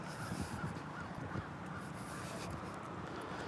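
Faint crows caw in the distance over a low, steady outdoor rumble of traffic.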